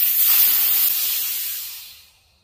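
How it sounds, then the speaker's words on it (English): Pressurized air rushes out of a resin casting pressure pot through its pulled relief valve, a loud steady hiss that fades away over about two seconds. "I just pulled the pressure relief valve. That was the quickest way to get the air out."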